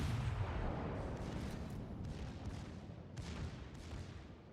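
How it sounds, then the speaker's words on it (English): Secondary guns on a British Warspite battleship in World of Warships firing under a continuous low roar of naval combat, with a few muffled booms breaking through near the end. "You can also see here the secondary is going off."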